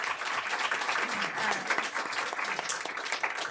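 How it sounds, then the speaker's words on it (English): An audience at a school board meeting applauds continuously, a dense patter of many hands clapping at an even, sustained level from start to finish. "I definitely think they deserve a round of applause for all they have done."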